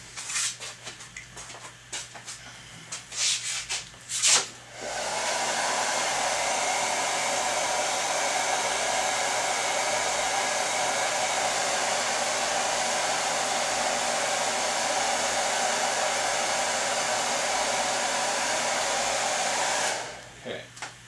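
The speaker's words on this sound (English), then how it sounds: "there's still a couple of minor little wrinkles there that I'll get out with the heat gun" A heat gun blows a continuous, steady roar for about fifteen seconds while shrinking wrinkles out of the covering on a Kadet LT-40 model airplane, preceded and followed by brief handling clatter.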